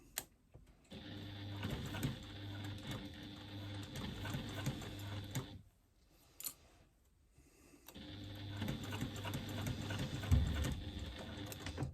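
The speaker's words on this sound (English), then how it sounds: "I'm top stitching down the side of my strap connector at an 1/8 of an inch seam allowance" A sewing machine topstitching a faux leather strap connector at an eighth-inch seam allowance, running in two sustained bursts of rapid mechanical stitching with a quiet pause between them, close and fairly soft, with no talk.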